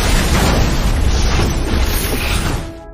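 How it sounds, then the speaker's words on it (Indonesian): A car crashing into a sand mound in the desert and exploding during a racing film, a loud, heavy, roaring boom that rumbles on for a few seconds before cutting off. "membiarkan mobil Joker menabrak gundukan pasir hingga akhirnya"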